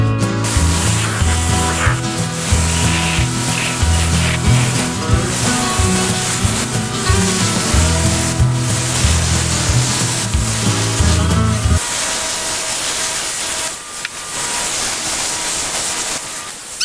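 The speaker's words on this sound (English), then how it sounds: "let's do the finish grind on it" Finish grinding of a karambit blade forged from a wrench produces a loud, continuous abrasive hiss with a shifting tonal whine, and its low humming undertone drops away partway through while the grinding continues alone.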